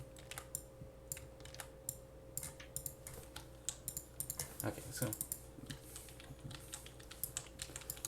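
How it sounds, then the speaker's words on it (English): Computer keyboard typing in rapid, irregular bursts of clicks at close range under a steady electrical hum, with a brief spoken phrase partway through. "I'm curious, how audible is my keyboard?"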